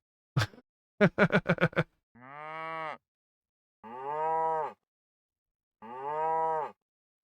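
Cows mooing in the video game Ranchbound, a quick burst of clicking game sounds followed by three long, drawn-out moos, each loud and close with quiet gaps between.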